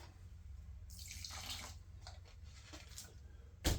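Water is poured in a quiet, trickling stream into a mixture, with faint splashing, ending in a brief louder knock.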